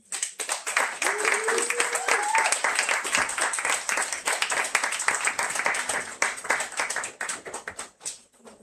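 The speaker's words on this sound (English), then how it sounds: "Another round of applause for Lorna Dee Cervantes" Audience at a Los Angeles book launch poetry reading applauds after a poem, sustained crisp clapping from a small crowd that tapers toward the end, with a brief voice at the start.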